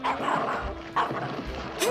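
Cartoon puppies yipping and barking, a few quick bright yaps over a busy animated soundtrack, fairly close and moderately loud.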